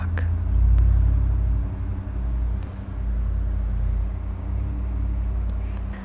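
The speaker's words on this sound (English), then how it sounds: "The big truck." A big truck passing on a road outdoors, heard as a loud, sustained low rumble that swells early and then carries on steadily.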